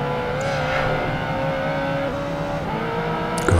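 A Ferrari racing engine in the video game Project Gotham Racing 2 holds a steady, sustained drone at high revs with a few small pitch shifts, loud and continuous with no voice over it.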